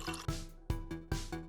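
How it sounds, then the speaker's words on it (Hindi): Liquid gurgles and splashes in three quick pulses, close and wet-sounding, like water glugging into a plastic bag. "जिपलॉक बैग में पानी डालें,"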